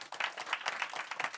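A crowd claps through the whole stretch in a dense, steady patter at an event in Eastern DR Congo, with no voices over it and no pauses.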